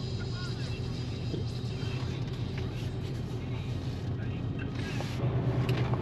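A Ford F-150 pickup towing maximum weight rolls down a 6% grade, its engine and road noise a steady low drone heard from inside the cab, with a voice talking over it.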